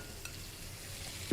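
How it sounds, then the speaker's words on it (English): Baked potatoes scraped into a bowl, a steady soft scraping texture throughout, with a brief louder knock near the end. "I'm just going to scrape them into this bowl"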